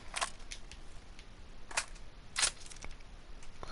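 An M16 rifle being reloaded in PUBG on PS4, heard as a few sharp, faint mechanical clicks and clacks spaced irregularly over a quiet background.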